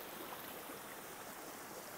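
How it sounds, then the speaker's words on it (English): Mountain creek water flows in a steady, dense rush with no breaks, close and fairly loud, unbroken by voices. "I'm sitting here by this beautiful mountain creek"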